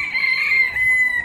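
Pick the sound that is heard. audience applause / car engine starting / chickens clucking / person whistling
chickens clucking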